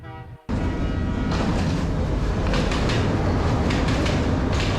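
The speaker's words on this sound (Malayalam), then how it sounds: "നമ്മുടെ ട്രെയിൻ ഇതാ വരുന്നുണ്ട്." Train pulling into a station at Ella, Sri Lanka: after a brief quieter start, a sudden loud, steady roar of wheels and carriages rumbling close by, with faint rhythmic clatter throughout.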